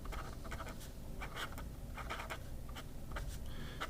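A fountain pen fitted with a Regalia crossflex nib scratches across paper in quick, soft strokes, quiet and close, with short pauses between bursts of writing.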